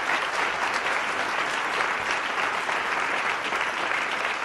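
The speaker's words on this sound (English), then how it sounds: "if Senator Dodd's friends insist upon applauding at length after every answer, I'm going to need a little extra time" Sustained, loud applause from a debate audience after a candidate's answer, a dense, even wash of clapping that fills the whole stretch without pause.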